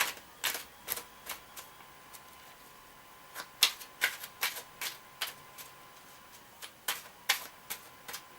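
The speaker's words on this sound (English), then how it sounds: "I'm just going to quickly give these a shuffle." Tarot cards are shuffled by hand at close range, producing a series of quiet, crisp riffling snaps and clicks in irregular bursts with short pauses between.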